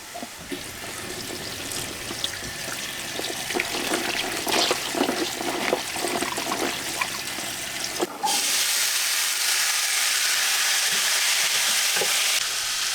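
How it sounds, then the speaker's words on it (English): Liquid from tins of three-bean mix draining off in a steady pouring, splashing stream, running continuously through the second half after earlier clatter and stirring noises, close and fairly loud with no voices. "drain the liquid off them"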